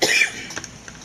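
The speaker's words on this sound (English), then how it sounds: "I still got this cough" A single dry cough up close, one harsh burst followed by a quiet breathy tail.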